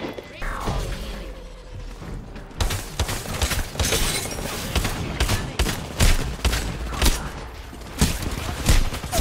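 Shotgun blasts from Mad Maggie's paired pump-action shotguns in Apex Legends, a run of loud, sharp reports in quick irregular succession over busy, cluttered game noise with shattering impacts.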